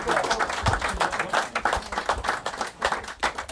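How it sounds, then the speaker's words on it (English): A small group claps steadily for several seconds, a dense burst of applause with scattered voices mixed in. "Give a round of applause."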